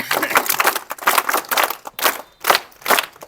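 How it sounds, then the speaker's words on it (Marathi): Another round of vigorous clapping from the gathered audience at a Malwadi Zilla Parishad primary school sports award ceremony, rising and falling in thick, energetic surges. "जोरदार टाळ्या पुन्हा एकदा झाल्या पाहिजेत"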